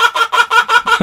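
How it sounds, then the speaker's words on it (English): Chicken clucking in a rapid, agitated series of about six loud, close calls with short gaps, sounding frightened, with no talk over it. "That chicken is terrified."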